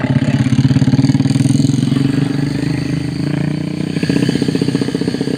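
A motorcycle engine thrums loudly and close on an uphill road, a rapid, pulsing mid-pitched beat that holds steady and briefly revs, with no talk.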